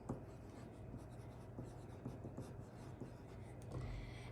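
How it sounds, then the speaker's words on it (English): Pencil scratching steadily across paper as a child writes a name in a second-grade classroom, soft continuous strokes with faint room murmur behind. "I want you to write your name."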